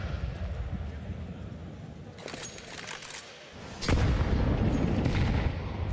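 Grenade explosions in a Counter-Strike 2 match at a major esports tournament: broadband blasts, with a heavy boom near the middle that leaves a loud rumbling tail, over steady game ambience.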